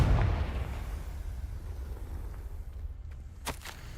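The Confringo explosion spell goes off in Hogwarts Legacy as a booming blast that fades into a long rumbling tail, followed by a few faint sharp cracks.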